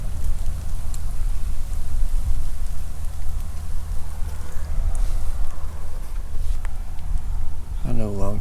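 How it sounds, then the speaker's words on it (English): Rain comes down hard during a storm in the Oklahoma outdoors. A dense, steady hiss of drops stays loud and close throughout, with a voice heard at the very end. "and here it comes raining."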